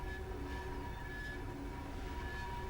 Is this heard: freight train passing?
yes